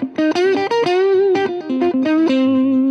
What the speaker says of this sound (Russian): Как будто бы на гитару такой, на звук положили такую подушку. И она стала ватной.